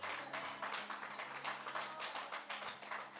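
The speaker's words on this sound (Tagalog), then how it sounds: "isang malakas na palakpak po para po sa Panginoon" A church congregation at a Filipino Sunday service claps together for God, a steady patter of many hands in a moderately loud hall with no one talking over it.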